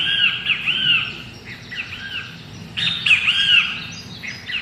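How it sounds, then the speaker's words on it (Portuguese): Birds squawk and chirp in repeated bright bursts after a rainstorm has passed, fairly loud and close, with a steady outdoor hiss beneath and no voices. "pássaros que cantam após a chuva ter passado, que cantam no fim de uma tempestade"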